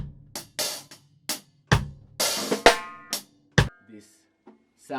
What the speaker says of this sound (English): how do I make the snare sound like this?